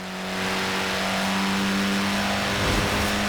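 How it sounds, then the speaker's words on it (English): A Mini Cooper S in Forza Horizon 4, a performance version with twin carburetors, holds a steady buzzing engine drone that builds slightly, with a brief rise near the end and no talking. "The Mini Cooper S was built to be a performance machine with deeper engines, twin carburetors and front disc brakes"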